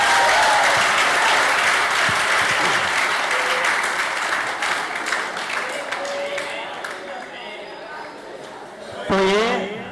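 An audience at a live event applauds loudly and steadily, the clapping fading gradually toward the end while background chatter and a brief voice rise near the close.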